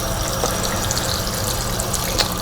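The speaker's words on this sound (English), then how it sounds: "So we're just rinsing it off good, making sure getting all that excess off." Running water from a tap rinsing raw salmon before canning, a steady close rushing and splashing stream with no speech over it.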